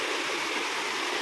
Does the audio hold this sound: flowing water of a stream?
yes